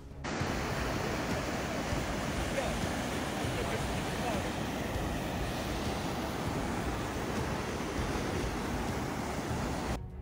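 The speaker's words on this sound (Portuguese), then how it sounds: "As chuvas fortes que caem em Santa Catarina causaram inundações gravíssimas na cidade de Benedito Novo nesta segunda-feira 5." Floodwater rushing through the town of Benedito Novo, Santa Catarina, after heavy rains, a dense continuous roar of churning water that holds steady and loud throughout.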